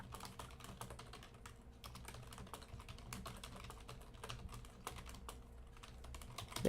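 Quiet, continuous clacking of a computer keyboard as someone types steadily through the whole stretch, with no voices and a low room hum underneath.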